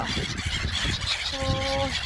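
Two ducks give short nasal honking calls nearby, over loud ambient noise, with a clearer call toward the end.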